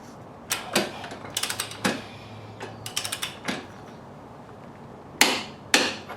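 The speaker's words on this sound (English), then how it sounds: "Now we're going to tighten the axle bolt." A wrench tightens the rear axle nut of a Suzuki V-Strom motorcycle, making quiet, close ratcheting clicks and metallic taps in short irregular bursts with gaps between them.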